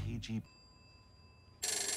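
A telephone rings in an episode of Stranger Things season 4, a steady electronic tone held for about a second between louder bursts of other sound.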